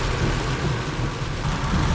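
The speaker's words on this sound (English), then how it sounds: "there is thunderstorm, some nice lightning strikes" Thunder and heavy rain from Tropical Storm Ernesto making landfall on the Florida coast in 2006, heard as a steady, loud, close wash of storm noise with a low rumble underneath and no voices.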